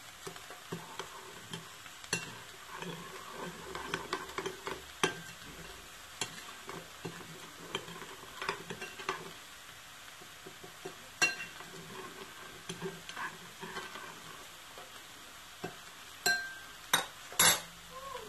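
A spoon stirs paprika, ginger, salt, black pepper and Quebec spice mix into turkey paupiettes in a pan, making a long, faint scraping and soft clinking sound, with light sizzling and a few sharper clinks near the end.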